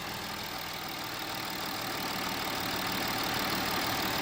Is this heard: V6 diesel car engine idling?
yes